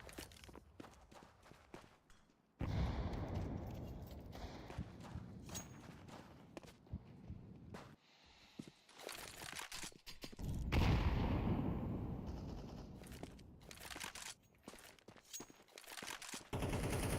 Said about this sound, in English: Let's see what kind of damage can be done here with the pistols.